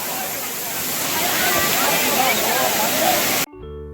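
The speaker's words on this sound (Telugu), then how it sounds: "సో వాటర్ చాలా ఫోర్స్గా ఆ రాళ్ళపైన పడడం వల్ల" Water from the Palakondalu waterfall pounds forcefully onto rocks in a loud, steady, close roar, then cuts off abruptly near the end.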